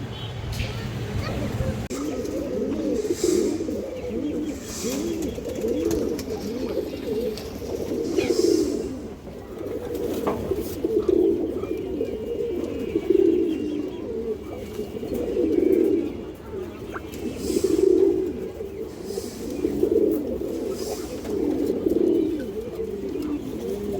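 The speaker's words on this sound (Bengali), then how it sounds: "এই দেখেন কবুতরের পেয়ারটা দেখেন" Pigeons kept for sale, including a Bagha pair, cooing in a steady series of low rolling coos roughly every two seconds, close by, with someone talking over them at times.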